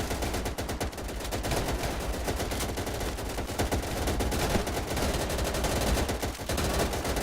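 Gunfire in the video game Easy Red 2, a dense, continuous rattle of machine gun and rifle fire, loud and unbroken throughout, with no speech.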